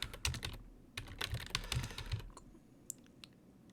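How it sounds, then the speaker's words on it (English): Fingers type a name into a Sporcle quiz on a computer keyboard, a quick close burst of clicking keystrokes that thins out to a few isolated taps, with no voices. "I could just type in a name"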